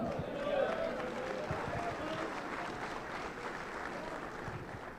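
Steady applause from a crowd at a pastors' conference fills the whole stretch, a dense wash of clapping at even strength with no pauses.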